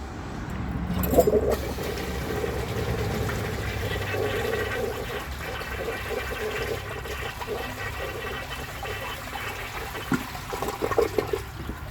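A tiny 1994 Eljer kindergarten toilet flushes with a washcloth in the bowl: a sharp handle clunk, then a loud rushing swirl of water draining and refilling steadily for over ten seconds.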